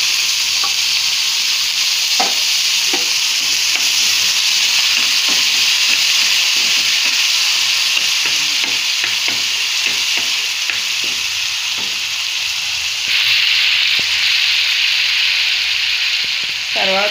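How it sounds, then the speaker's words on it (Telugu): Red chili paste sizzles and fries steadily in a pan, a continuous close hiss with scattered small pops and occasional stirring clinks, no voices heard. "ఇది వేగుతుంది"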